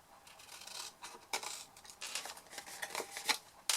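Scissors cutting a paper shape away, a quick series of crisp snipping strokes close up in a quiet room, with no talking.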